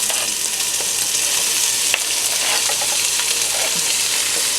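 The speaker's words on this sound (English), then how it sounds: "Get a nice sear on it." Shredded beef seasoned with garlic, crushed pepper and lard sears in a hot pan, giving a steady, close, loud sizzle and crackle with a few scraping stirs and no voices.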